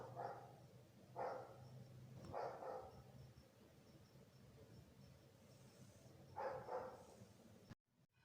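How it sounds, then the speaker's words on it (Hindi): A neighbour's dog barks outdoors on a sunny day in short clusters of two or three barks separated by quiet pauses, faint and somewhat distant. "साथ वालों का कुत्ता भौंक रहा है"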